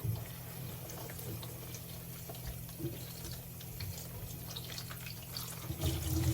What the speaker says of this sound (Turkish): Ondan sonra bunları bir yıkıyorum arkadaşlar